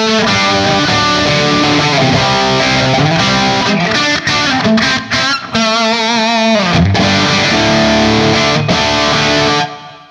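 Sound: electric guitar with reverb effect

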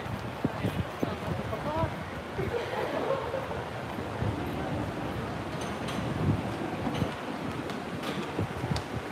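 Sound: strong wind blowing

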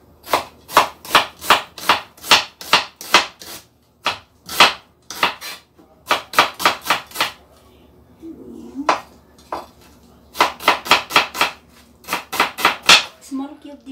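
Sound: chopping onion into small cubes

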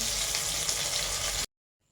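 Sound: fish frying in oil

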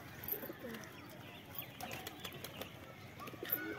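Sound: pigeons flapping wings

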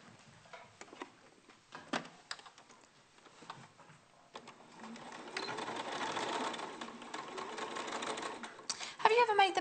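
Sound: sewing machine stitching a fabric bear's leg

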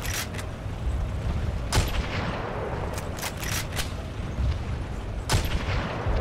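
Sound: gunfire shots in Zone of Continuous Fire mod video game

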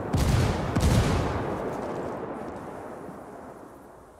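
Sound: gunfire in the video game Rainbow Six Siege

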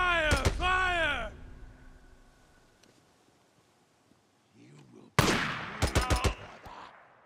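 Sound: gunfire in the video game Days Gone

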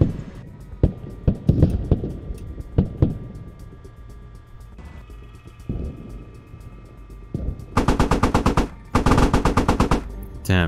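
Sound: 50 cal machine gun fire from amphibious vehicle in video game Squad

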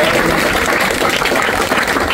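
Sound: applause from the audience

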